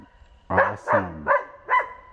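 Sled dogs at a trapping camp bark four times in a loose rhythm, close and fairly loud, each bark short and throaty, with no talk during the barks.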